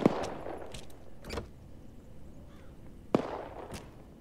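Gunfire in the video game Arma 3, two sharp distant shots about three seconds apart with a few fainter pops between, against a quiet outdoor backdrop.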